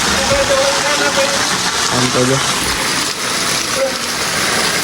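Steady heavy rain roars as a broadband wash throughout over a flooded village, with people talking over it.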